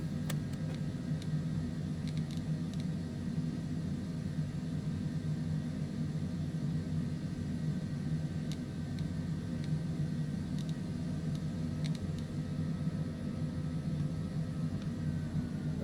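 An airliner taxiing in Microsoft Flight Simulator 2020, a continuous low jet-engine rumble and hum held steady throughout, with faint occasional clicks over the drone.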